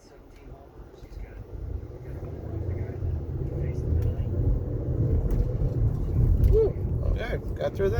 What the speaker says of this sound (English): this is like a really bad traffic